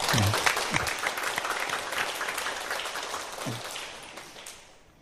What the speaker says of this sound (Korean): 우리 한번 박수 좀 보내주시죠